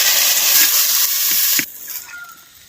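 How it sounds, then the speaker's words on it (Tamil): Grated coconut frying in sesame oil, a loud, steady close-up sizzle that suddenly drops partway through and fades to a quieter hiss. "தேங்காய் பூவை அப்படியே நல்லா நல்லெண்ணெயில் வதக்குறேன்"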